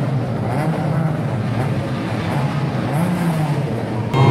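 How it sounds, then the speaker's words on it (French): Race cars roll off together on a warm-up lap, a dense blend of engines droning and revving at moderate distance, growing louder near the end. "Le tour de chauffe va être lancé, tout le monde s'en va."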